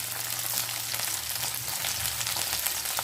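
Chopped shallots and curry leaves sautéing in hot oil for bitter gourd thokku make a continuous, close, bright frying sizzle with a low steady hum beneath and occasional stirring swishes.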